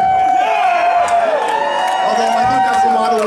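Big crowd at an All Mod Cons 30th anniversary gig cheering and whooping, loud and sustained, with several shouting voices rising above the roar.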